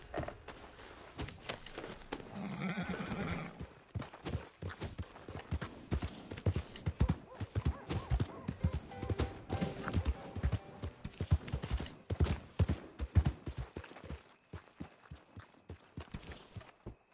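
Horse hooves clip-clop at a steady walking pace in Red Dead Redemption 2, with fairly loud, close footfalls running through most of the stretch and a brief, possible whinny near the start.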